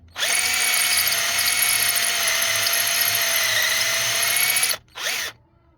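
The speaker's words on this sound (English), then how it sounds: "So I'm drilling like this" Close, loud high-pitched drill whine boring into a Volkswagen GTI cylinder head, running steadily for several seconds, cutting off, then a brief second spin-up and stop.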